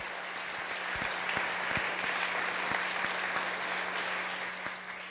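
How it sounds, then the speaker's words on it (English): Audience at a service clapping and snapping together, a dense steady wash of many hands with scattered sharper snaps, sustained for the whole stretch at a fairly distant, even level with no talk. "I'm going to ask you to clap and snap one more time"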